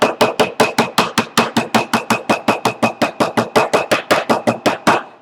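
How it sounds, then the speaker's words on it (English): A flat-faced hammer taps a metal valet tray, about two dozen sharp, ringing metallic strikes in a steady, fast rhythm, each one close and loud. "I'll take me a flat-faced hammer here and just give it a couple of taps."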